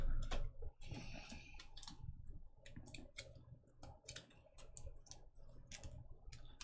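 Cards from the Exploration deck of the Arkham Horror card game being shuffled by hand, a brisk run of close, dry clicking riffles with no talk.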